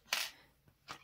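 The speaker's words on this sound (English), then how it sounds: "cut the yarn" Scissors snip through yarn at a circular knitting machine while finishing a one-layer knitted beanie hat, giving two short, close, crisp cuts with a pause between them.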